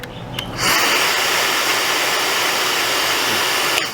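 A Dreame hair dryer starts up after a brief click and runs at a loud, steady, even airflow whoosh, then cuts off at the end.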